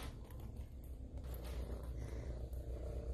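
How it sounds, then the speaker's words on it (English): Low, steady rumbling purr of a young Siamese mix cat close to the microphone, continuous throughout with slight rhythmic pulsing and no talking. "She has a big purr"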